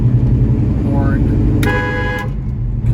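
Horn of a 1971 Chevrolet Chevelle with a 350 engine, giving one short honk followed by a longer, steady blast, close by over a low engine idle and road noise.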